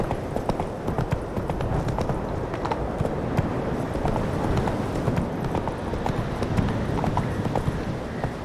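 Roach the horse clip-clops steadily on its hooves in The Witcher 3, a continuous rhythmic trot of close, moderately loud hoofbeats with no talk over it.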